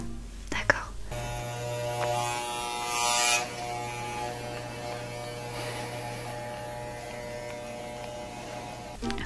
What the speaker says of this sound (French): Je vais juste raser les micro-poils qui entourent la plaie.